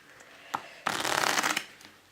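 A deck of cards is riffle-shuffled close by using a sloppy-shuffle magic technique, a short rapid flutter after a couple of light taps, with no talking.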